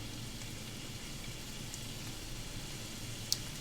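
Food sizzles in a pan as a faint, steady crackling hiss with a few tiny pops, continuous throughout and heard alone without talk.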